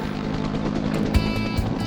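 A firefighting helicopter with a roughly 500-gallon water bucket swinging beneath it drones steadily overhead, a continuous rotor and engine roar with no voices.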